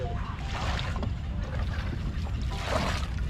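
A leaking small boat moving through the water of the sunken coastal village of Bedono, giving a steady low churning wash with light splashing, while people talk quietly nearby.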